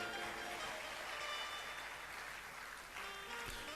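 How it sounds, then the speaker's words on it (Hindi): Thin, scattered clapping from a small audience at a devotional discourse in a Hanuman temple, quiet and half-hearted, sustained over a low room hum. "तो तालियां मरी मराई क्यों बजा रहे हैं?"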